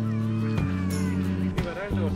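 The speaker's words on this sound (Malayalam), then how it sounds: "50 അടുത്ത് പൂച്ചകളുണ്ട്. 48 പൂച്ചകളുണ്ട് അല്ലേ." Several cats meow in a house that holds about fifty cats. Repeated close, drawn-out meows overlap one another, and a person talks in the background.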